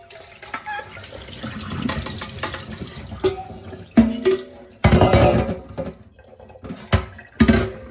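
Pickles draining in a sink, with bursts of running and splashing water and a few clinks of dishware, coming and going in uneven spurts.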